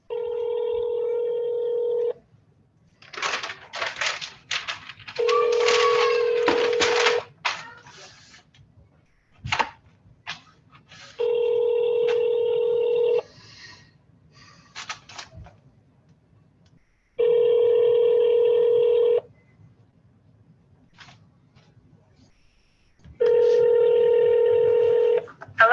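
Automated transfer tones on a government information hotline: repeated steady two-part beeps in evenly spaced bursts, separated by short clicks and scraps of faint recorded voice, clear and close.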